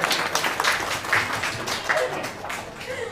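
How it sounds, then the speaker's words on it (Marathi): An audience applauds at a book launch event, a short burst of dense clapping from a room full of people, with a voice speaking over it. "कावेरीसाठी आत्ताच आपण टाळ्या वाजवूया"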